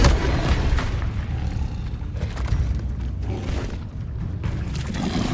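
Explosive Confringo and Bombarda spells cast in Hogwarts Legacy, with continuous loud booming blasts and rumbling impacts piling up across several seconds.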